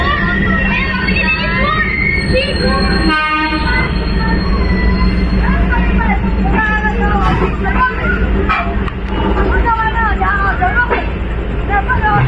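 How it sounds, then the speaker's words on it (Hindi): The Rajrani Express, a Jhansi–Lucknow–Meerut train, rumbles past close by with a steady loud roar, rattling wheels and brief squeals, while people talk in the background. "झांसी लखनऊ मेरठ राजरानी एक्सप्रेस जो कि मेरठ जा रही है।"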